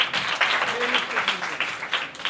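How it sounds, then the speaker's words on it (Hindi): A short burst of group hand clapping by children at a Sunday school class, brisk and scattered, with a few voices mixed in. "चलो इसके लिए तालियां बजा दो"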